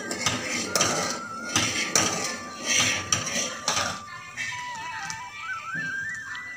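Rice kheer stirred in a cooking pot with a metal spoon, giving repeated close clinks and scrapes against the pot in an uneven rhythm, softening toward the end, with no talking.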